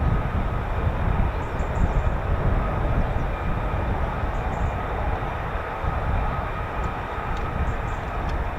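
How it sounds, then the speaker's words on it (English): F-35B fighter jets at an RAF base make a continuous broad, distant roar that holds steady throughout, with no talking. "These are the F-35Bs. These are the ones that can hover, and it's an answer to improving upon the Harrier,"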